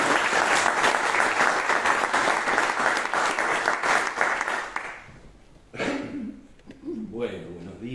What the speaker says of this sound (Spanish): pido un aplauso para el doctor